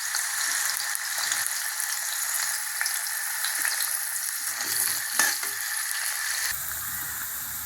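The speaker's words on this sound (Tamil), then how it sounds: "அந்த காராகருணை எண்ணெயில் போட்டு நம்ம வறுத்து எடுத்துட்டு தாளிக்க வேண்டியதுதாங்க" Pieces of elephant foot yam frying in hot oil, giving a steady, close, bright sizzle that runs unbroken throughout with a few small crackles and pops and no talking.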